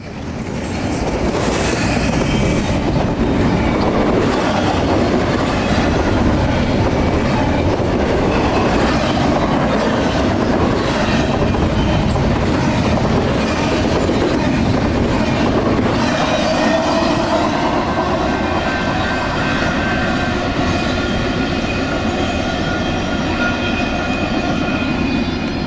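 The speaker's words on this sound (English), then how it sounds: "A fourth and final eastbound manifest approaches." A BNSF eastbound manifest freight train rolls past on the Chillicothe Subdivision in Chillicothe, Illinois, a loud, continuous rumble of wheels and cars with clickety-clack and faint wheel squeal that holds steady throughout.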